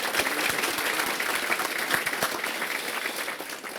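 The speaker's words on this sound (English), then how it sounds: "get everybody a big round of applause" An audience at a regional chamber's family-owned business recognition event gives a big round of applause, a full, lively burst of many hands clapping that stays strong from start to finish.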